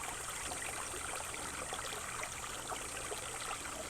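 A mountain brook runs down over volcanic rock, a steady broadband rush and trickle of water with no pauses, fairly soft and even throughout.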